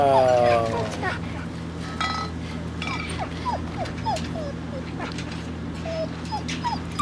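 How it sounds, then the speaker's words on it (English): Dog whimpering in a Walking Dead video game, a string of high, rising whines and yips that repeat steadily at close range, with a sharper bark near the start over a low background hum. "Yeah, you have to kill the dog."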